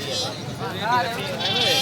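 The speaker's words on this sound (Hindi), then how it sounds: "ये एक बकरी खड़ी हुई है" Rajanpuri goats at a livestock sale, with several wavering bleats rising over a steady crowd murmur and nearby chatter.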